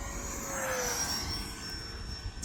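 An E-flite Viper 70mm RC electric ducted-fan jet flies past in the distance on a sunny day, a faint whining drone that slides downward in pitch as it slows.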